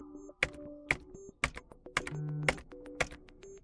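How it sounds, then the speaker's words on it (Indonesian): Keys on a computer keyboard are pressed in a sparse, uneven series of crisp clicks, close and quiet, with Tab among them and no talking. "sekarang gunakanlah tombol Tab yang ada pada keyboard Anda"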